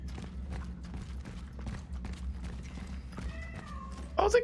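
A cat meows in the video game Cronos: The New Dawn, a short cry rising near the end over a low droning game ambience with scattered clicks and taps.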